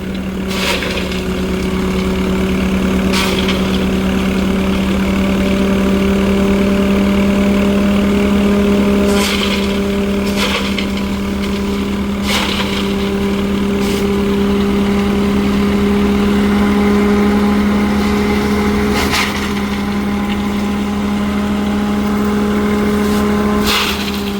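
A Swaraj 855 FE tractor drives a farm waste shredder pulverizer used on coconut fronds, making a loud, steady engine drone with a strong low hum. Occasional sharp knocks and thumps break in over it, and it runs without pause throughout.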